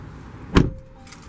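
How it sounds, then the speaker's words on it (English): A single solid thud of a 2022 Volvo XC90 T6 AWD Inscription door shutting, short and close, followed by quiet cabin hum. "Close the door,"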